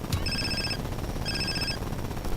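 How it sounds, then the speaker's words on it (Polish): A mobile phone ringing in the video game GTA San Andreas, two bursts of an electronic trill ringtone over a steady background hum, no talking. "Ale najpierw odbierzemy telefon."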